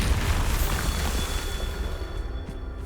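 A Bombarda blast spell in Hogwarts Legacy: a loud, dense rumbling explosion that fills the whole clip and slowly decays toward the end, with no voice over it.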